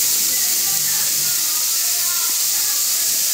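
Chopped tomatoes and onions sizzle in a hot pan, a loud, steady, hissing frying sound that holds unbroken throughout with no pauses.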